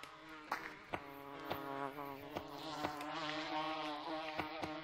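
Bees in the video game Gorilla Tag buzz steadily near the listener, a wavering drone punctuated by light periodic taps.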